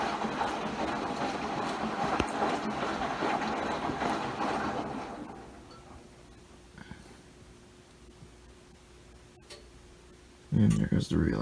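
A Maytag washing machine in its final rinse and spin: a loud whirring hum that winds down to a quieter low drone with faint ticks, then a sudden louder burst near the end.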